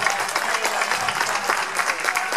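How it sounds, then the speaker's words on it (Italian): A crowd at an outdoor folk group event in Colleferro applauds the organizers with dense, continuous clapping from many people, fairly loud and close, with faint crowd murmur underneath. "Facciamo un applauso all'organizzazione."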